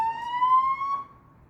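An ambulance siren drifts past outside as a steady rising tone that fades within moments, heard faintly in the background.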